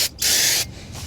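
Close aerosol spray cleaning the front of a front brake rotor on a 2017 BMW X5, with a short hiss, then a longer loud burst, then a softer final spray.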